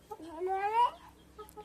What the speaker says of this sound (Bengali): মুরগি ঘরের ভেতরে ঢুকতে হবে না, বাইরে বেরো।